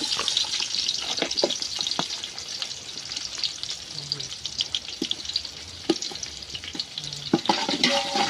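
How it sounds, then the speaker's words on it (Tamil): Onions go into hot oil with cinnamon for a village-style chicken gravy cooked outdoors in a forest. A steady, close crackling sizzle runs throughout, with scattered pops and stirring scrapes. "அடுத்து வெங்காயத்தை போட்டுக்கலாம்."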